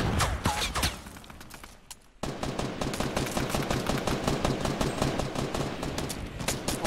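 Gunfire in the Fortnite video game: dense, rapid bursts of shots that fire almost continuously and loudly, with a brief lull before the shooting resumes even more steadily.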